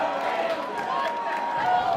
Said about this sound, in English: And the crowd going ape on the outside.